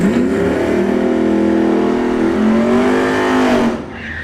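A Tesla Model S Plaid launches down a drag strip, a loud rising electric whine with climbing tonal bands that swells steadily for nearly four seconds before dropping away abruptly.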